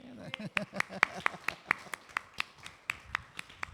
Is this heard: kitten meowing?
no